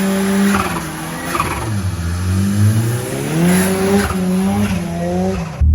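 A Ford Sierra Sapphire RS Cosworth, pulled from abandonment, is driven hard, its engine note rising and falling through gears with tyre noise, loud and close throughout with no talking.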